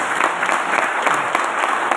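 Audience applause at a Safe Shop leadership gathering, a dense, steady clapping crowd sustained throughout, loud and close with no talk over it.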